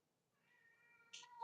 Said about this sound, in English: sorry about my cats being crazy